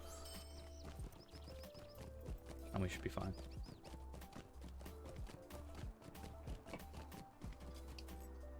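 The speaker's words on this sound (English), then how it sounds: "Hobby horse is great. It is the best horse." Hooves of a hobby horse mount clip-clop steadily in The Lord of the Rings Online while riding toward Rivendell, a rhythmic trot running beneath game sounds as someone speaks briefly.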